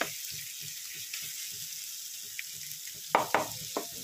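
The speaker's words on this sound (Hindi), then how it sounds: "तो चलिए हम 1-2 मिनट और भून लेते हैं इसको" Papaya halwa frying in oil in a pan, a steady soft sizzle running throughout with a few louder scraping stirs near the end.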